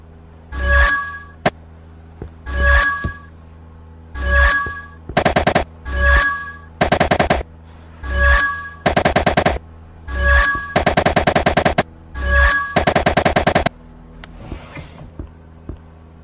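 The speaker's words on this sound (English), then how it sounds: "you can shoot boxes to move them," Pistol fire in the PC game LECTRO as boxes are shot to move them, loud bursts of rapid shots in repeated groups with short gaps, followed by a faint tail.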